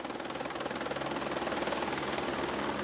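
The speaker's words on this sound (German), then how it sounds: "Der Hubschrauber ist wieder ununterbrochen im Einsatz." A helicopter flies steadily overhead during a cave rescue operation, its continuous rotor chop and engine drone holding at a fairly even, moderate level throughout with no talking.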